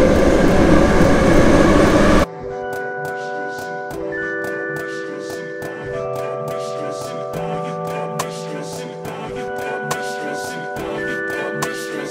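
A Minsk metro train rolls along with steady tonal whines and rhythmic clicks of wheels over rail joints, loud and close, after a burst of broadband rush at the start.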